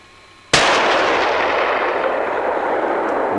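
A single loud rifle gunshot cracks out during a moose hunt, its sharp report rolling into a long, echoing decay across open terrain for several seconds.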